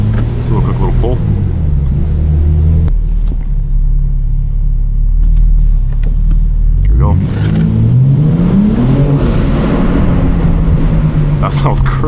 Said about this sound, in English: Let's do a quick little pull.